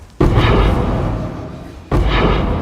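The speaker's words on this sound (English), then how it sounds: "The noise you heard for the Orb of Annulment, that's the same noise that you hear for like Divine Orb" Two heavy, booming whooshes a couple of seconds apart, each a loud thud that swells and slowly fades: the orb-use sound for an Orb of Annulment in Path of Exile 2.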